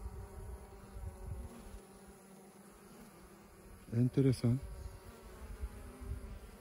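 Honey bees buzz around a small queen bee at a hive, a steady low drone with a short louder burst as one passes close, under a man's occasional speech.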